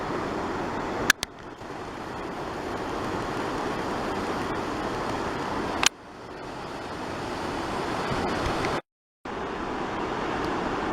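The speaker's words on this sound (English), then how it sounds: "Getting closer and closer to the waterfalls. You could hear it loudly." Steady, broadband rushing water roars continuously from a waterfall in Belize heard nearby, with a couple of sharp clicks and a brief dropout.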